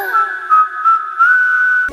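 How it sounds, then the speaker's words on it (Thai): A tuneful whistled melody in the video game Mortal Kombat 1, a clear, steady high whistle with small pitch glides, heard alone and ending in an abrupt thump. "จงผิวปากทำงาน"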